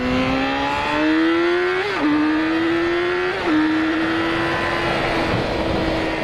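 Motorcycle engine, a bike replacing a heavier Kawasaki 650, riding through curves; a steady loud drone with gear-change dips and rising pitch, continuous and close, no talk.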